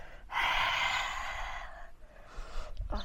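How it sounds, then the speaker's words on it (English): A long, forceful lion's breath exhale in a yoga class, a breathy roar through an open mouth that is close and loud and tails off into softer breathing. "Exhale, lion's breath."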